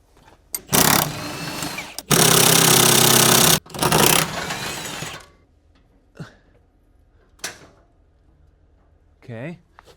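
A power tool unscrews bolts to lower an engine table during a B58 engine swap into a wagon. It gives two loud, close buzzing bursts, then fades to quiet, and someone talks afterward.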